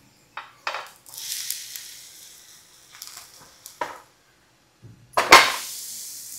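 Food frying in oil in a pan is turned over with a utensil: a few short scrapes and clinks against the pan, light sizzling in between, and a louder clatter near the end, all close by with no talking.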